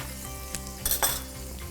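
Urad lentils frying in hot oil, a close, steady sizzle with brief louder crackles and pops and a light clink of a utensil against the pan, no talking.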